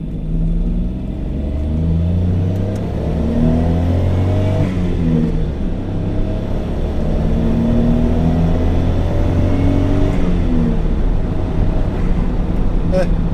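A 1992 Mazda Autozam AZ-1 kei sports car engine drones loudly from close by on a test drive, its pitch climbing and falling through two long pulls of acceleration.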